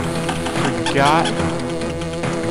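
Bees buzzing in the Parachute Panic level of Donkey Kong Country 2 give a warbling drone layered with the game's music, while someone talks over it.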